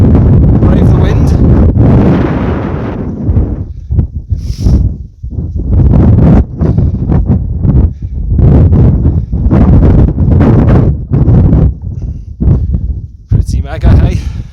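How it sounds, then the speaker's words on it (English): Strong wind buffeting on a mountain summit in the Lake District, roaring gusts that rise and fall loudly against the microphone, with a person talking intermittently through it. "Brave the wind."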